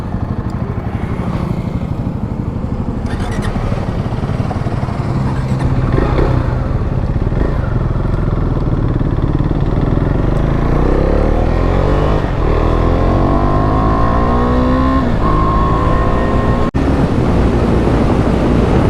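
Royal Enfield Himalayan motorcycles on a group ride, engines droning loudly and steadily up close with heavy wind rush and a rising note as the bikes accelerate.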